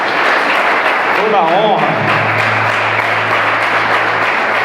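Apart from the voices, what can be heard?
church congregation applauding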